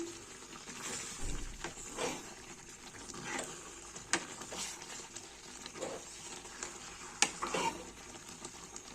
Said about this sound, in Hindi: मसाले को हम अच्छे से मिक्स कर देंगे।